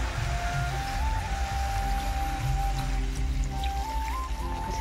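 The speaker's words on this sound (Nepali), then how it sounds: "फ्राई भइसकेपछि मैले आवश्यकता अनुसार पानी राख्छु।" Water poured into a pan of fried meat gives a soft, steady trickling and gurgling with faint sizzle, quiet and continuous for several seconds.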